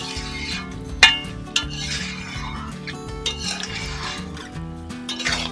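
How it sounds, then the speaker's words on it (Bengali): Amla pickle cooked with jaggery is stirred in a pan. A spoon scrapes and rubs steadily and close by, with an occasional clink of metal against the pan. "গুড় দেওয়ার পর 10 থেকে 15 মিনিটের মতন একটু এইভাবে নাড়তে হবে।"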